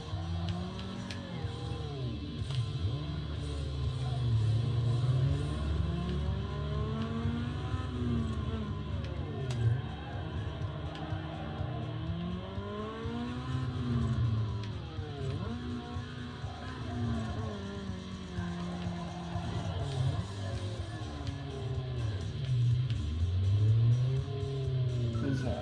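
A car driving in the GameCube racing game Need for Speed Underground 2, its engine droning steadily with repeated rises and falls in pitch as it revs and shifts, loud and continuous throughout with no talking.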